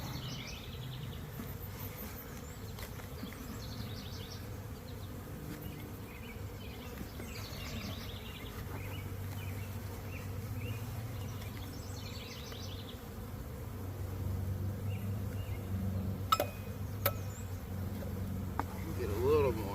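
Honey bees buzz steadily around an overwintered hive during a mite inspection, a constant close drone of many insects, with faint bird chirps and occasional clicks in the background.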